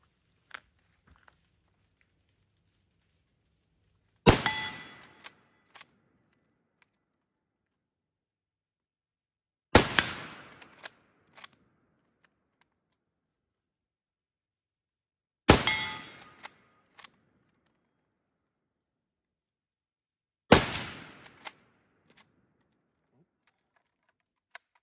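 Four widely spaced, loud rifle shots from a Siamese Mauser Type 46/66 chambered in 8x52mmR, each a sharp crack with a short echo tail and faint bolt and handling clicks between, quiet otherwise.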